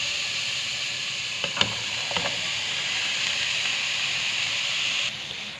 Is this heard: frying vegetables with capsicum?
yes